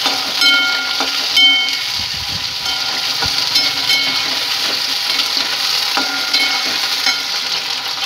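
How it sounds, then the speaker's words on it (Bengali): Vegetable stalks fry in a pan in a steady, loud, continuous sizzle. A few faint clinks of stirring come through, and nobody speaks. "ডাটাগুলো ভেজে নেবো, ফুলটাকে ডাটাগুলো ভেজে নিই আমি।"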